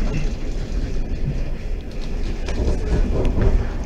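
Single-car passenger train leaving Neratovice station towards Mělník on line S3, a steady rumbling ride with rolling wheel noise, heard close from inside the carriage at constant loudness.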